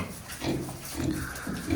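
Pigs being fattened on a farm grunt in low, soft bursts, three fairly faint grunts spaced about half a second apart against a quiet barn background.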